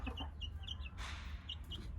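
Several chickens cluck softly in short, scattered calls over a low steady rumble, with a brief rustling burst midway.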